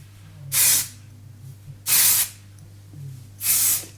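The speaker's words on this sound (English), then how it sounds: "It's a finishing texture spray, so it gives a bit of grit and volume." Three short bursts of texture spray on hair, each about a third of a second, hissing close by with quiet pauses between them.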